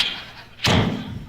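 A voice imitates a car door slamming: a soft hissing lead-in, then one sudden, loud, close thud that rings briefly before fading.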